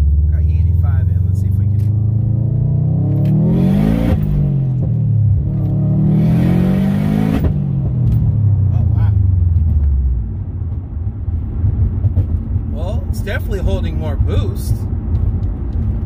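A 2004–2021 Subaru STi with stock turbo and a Grimmspeed bypass valve accelerates hard in sport sharp mode, engine note rising through two strong pulls with gear-shift dips, loud and close inside the cabin.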